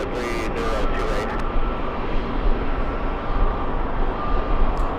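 A Delta Airlines Airbus A321 jet airliner at JFK Airport gives a loud, steady broadband jet roar with a low rumble, heard from close by with a brief faint voice near the start.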